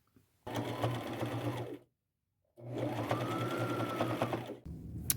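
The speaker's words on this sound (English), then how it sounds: "I'm just going to use a straight stitch and sew it all the way around." A sewing machine running a straight stitch around a bandana headband with elastic, two close, steady bursts of rapid mechanical whirring separated by a short pause.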